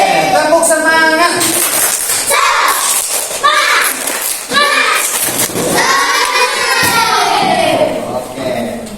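Schoolchildren in a classroom chant loudly and clap together in a rhythmic spirit clap, with bursts of shouted voices and sharp hand claps recurring steadily throughout.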